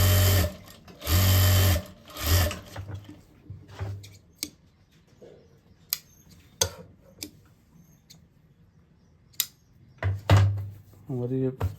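Sewing machine stitching full elastic pants, running in several loud bursts of a few seconds each, separated by pauses with faint clicks and handling of fabric.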